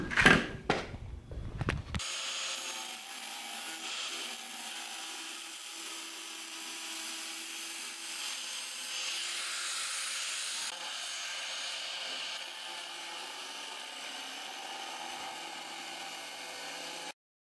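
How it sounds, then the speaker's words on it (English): An angle grinder smooths the rough-cut edges of a metal Captain America replica shield, giving a steady, loud grinding whine that runs unbroken for about fifteen seconds after a brief clatter at the start, with no talking. "The next step is to take the angle grinder and just smooth it all out."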